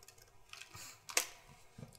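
Computer keyboard typing, a short run of light clicking keystrokes with one sharper louder tap near the middle, close and alone without voices.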